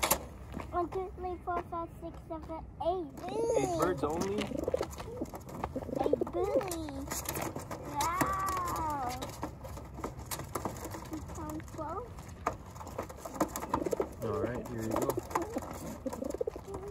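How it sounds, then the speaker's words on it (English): White racing pigeons coo in a series of repeated, rolling calls, close and fairly loud, rising and falling over a low outdoor background. "That's one of the white racing pigeons right there."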